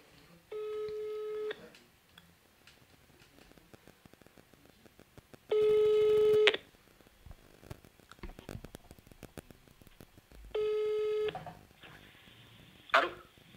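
A phone call being placed: three separate bursts of steady, harmonic ringback tone about a second long each, spaced several seconds apart, with faint background noise and small clicks between them and a brief clatter at the end.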